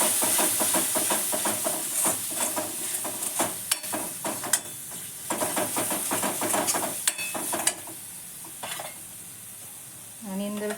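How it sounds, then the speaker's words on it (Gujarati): Red chili powder, turmeric and coriander-cumin powder sizzle and hiss in a hot pan while a spoon stirs through, with steady frying noise, occasional clinks of utensil on metal, and a bright scrape near the end. "હવે આને પણ થોડોક સાતળી લઈએ આપણે"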